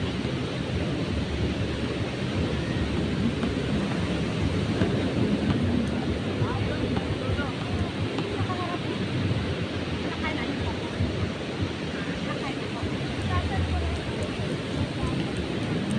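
Sea waves roll steadily onto the beach at Bauang, La Union, a dense continuous wash of surf with some wind rumble and faint voices in the background.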